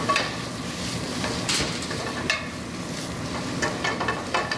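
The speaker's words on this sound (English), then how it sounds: "And that's just a quick nice saute." Beet greens from candy striped beets sautéing in a pan, a steady soft sizzle with scattered clinks and scrapes of stirring throughout.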